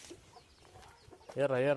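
Chickens out for a short spell of grazing give soft, scattered clucks under low background noise, ending in a louder drawn-out harmonic call close by; a person speaks nearby.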